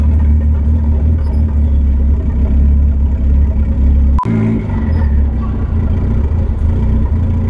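At a car meet, car engines hold a loud, deep idle rumble with occasional revs, nearby. A sharp knock cuts in midway, and faint talk runs underneath.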